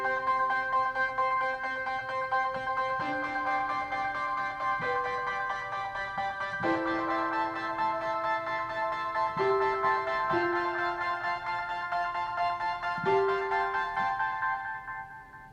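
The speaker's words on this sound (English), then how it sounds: "I'm using this other one called Distorted Lead ARP 3" Distorted Lead ARP 3 synthesizer keyboard patch playing a bright, sustained lead line with shifting notes, rich high overtones, delay and reverb tails, alone and fading out at the end.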